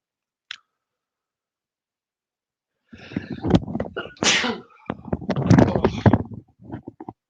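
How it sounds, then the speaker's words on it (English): A single loud sneeze bursts out nearby, with brief rustling and breathy noises around it; no clear talking. "I'm going to sneeze."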